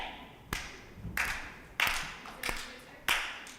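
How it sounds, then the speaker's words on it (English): A few children clap at a Tot Shabbat service, about five separate, fairly quiet claps spaced roughly half a second or more apart, loosely keeping a beat for a song. "If you want to start clapping, give me a beat."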